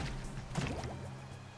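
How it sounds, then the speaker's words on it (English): Bubbles blown by a river dace underwater in the fishing game Monster of the Deep: a short run of soft wet drips and gurgles near the middle, over a steady low watery hum. "Oh no, it blows bubbles."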